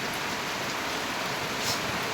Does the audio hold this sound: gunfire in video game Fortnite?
no